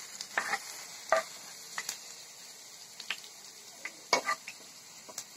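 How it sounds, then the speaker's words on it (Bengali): Garlic and ginger paste worked together with soybean oil, producing soft, intermittent scraping and squishing strokes of a spoon against a bowl, moderately close and fairly quiet, with no talking. "আমি এখন এটা ভালোভাবে এখানে সয়াবিন তেল দিয়ে ভালোভাবে মাখিয়ে নেব"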